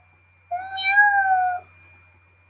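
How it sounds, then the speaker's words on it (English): A tortoiseshell cat lets out one drawn-out, clear meow lasting about a second, close by in a quiet room. "Yeah, she's a beautiful cat. She's a tortoise shell."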